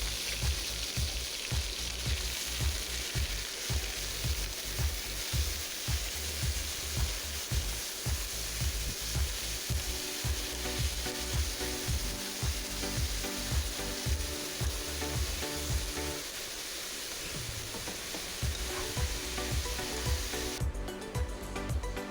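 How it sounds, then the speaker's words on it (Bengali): Onion sizzling steadily in hot oil with cloves, cinnamon and cardamom, a dense continuous fry with stirring scrapes throughout, briefly quieter near the end before picking up again. "এখন আমি পেঁয়াজটা দিয়ে দিলাম।"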